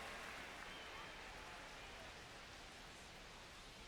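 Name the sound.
rain falling on the baseball field in MLB The Show 25 video game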